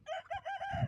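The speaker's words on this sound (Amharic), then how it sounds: "ዙሪያውን ዶሮ።" Chickens heard in a brief moment of repeated short, nasal, vocal calls rising and falling in quick succession, close and fairly clear, with a low rustle underneath.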